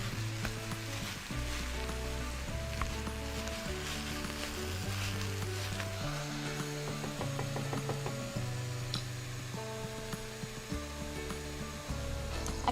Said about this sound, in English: I'm just going to break it up with my wooden spoon and cook it until it's lovely and dark brown